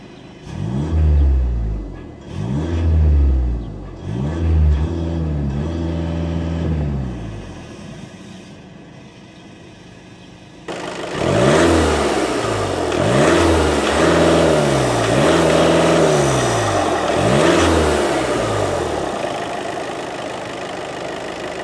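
A 2017 Volkswagen T-Roc TDI 4Motion diesel engine, limited to 2,500 RPM, revs repeatedly in short rhythmic bursts, each rising and falling, with a brief lull before another series of revs, loud and close.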